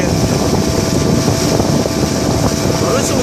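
An outboard engine on a small fishing boat runs hard while trolling for kingfish, a loud continuous drone mixed with wind buffeting the microphone and rushing water, with no breaks across the stretch.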